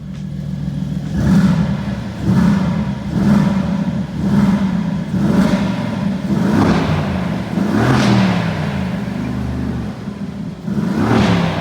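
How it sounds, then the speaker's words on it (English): A Mercedes twin-turbo engine revs repeatedly in a car, about seven loud close bursts spaced roughly a second and a half apart, each rising and falling over a steady mechanical rumble, with no talk. "So this is actually a Mercedes engine, twin turbo."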